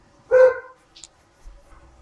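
A single short dog bark close by, followed by faint small noises and quiet background.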